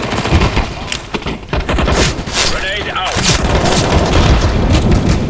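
Explosive booms and gunfire-like bursts from Counter-Strike: Global Offensive, a grenade blast among dense loud in-game combat noise over about five seconds, with someone talking over it.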